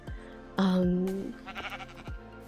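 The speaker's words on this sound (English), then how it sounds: "There's another sheep in there." A single Minecraft sheep bleat rings out clearly over a soft background with a few faint thuds and clicks around it.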